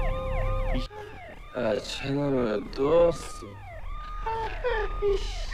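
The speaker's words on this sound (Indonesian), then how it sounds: "Yang ternyata suara sirine polisi tadi adalah tipuan dari HP Shiun" A police siren plays from a mobile phone, its wailing, sweeping tones rising and falling in several cycles, moderately loud, with voices briefly heard among the warbles.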